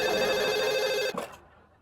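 A telephone bell rings loud and close in a comedic office scene, one steady ring that cuts off abruptly and is followed by a short clatter and quiet.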